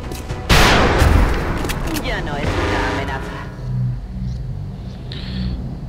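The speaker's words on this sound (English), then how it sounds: "Shoot him dead." Loud burst of gunfire in XCOM: Enemy Unknown, a sharp crack with rolling boom that decays over a couple of seconds, followed by quieter game ambience and talk.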